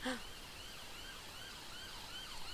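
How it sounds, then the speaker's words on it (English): Ambulance siren from The Sims 4 game, a wailing tone rising and falling steadily at moderate distance, alone without talk. "No, that's not the police, that's an ambulance."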